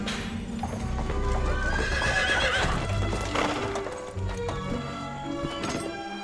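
A horse-drawn carriage passes with steady clip-clopping hooves and a horse's whinny, heard close and continuous over a musical background.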